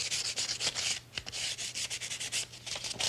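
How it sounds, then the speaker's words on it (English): Hand sanding an oak dresser with garnet sandpaper, rapid rhythmic back-and-forth scratchy strokes, close and steady over a few seconds with no talking. "And then you can sand with some paper."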